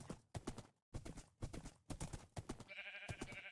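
Horse hooves clip-clop in a video game, a quick, regular series of hollow knocks close by, with an animal bleat-like call near the end.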